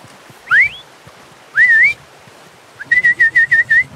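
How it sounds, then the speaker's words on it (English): Three bursts of human whistling calling a horse in Red Dead Redemption 2: a rising two-note call, a second rising slide, then a rapid string of six short repeated chirps, loud and clear over quiet game ambience. "Whistle for my horse."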